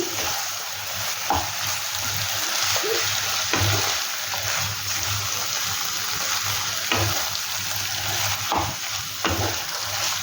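Prawns frying in a pan with banana flower for a Bengali mocha ghonto, a steady broadband sizzle throughout with occasional stirring scrapes and small clatters, close and moderately loud with no talking.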